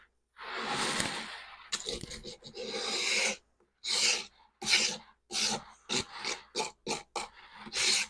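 Surform rasp shaping plaster: a long steady rasping pass, then a run of short, evenly spaced scraping strokes, close and fairly loud with no talking.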